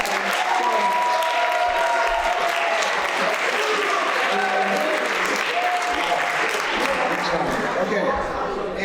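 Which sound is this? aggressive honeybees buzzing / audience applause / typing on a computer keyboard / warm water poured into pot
audience applause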